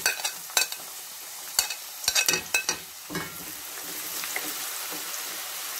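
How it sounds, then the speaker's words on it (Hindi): Onions deep frying in hot oil, a steady bubbling sizzle broken by several sharp clatters of stirring, close and fairly loud, with no voices. "अब इसके बाद हम इसमें प्याज डीप फ्राई करेंगे।"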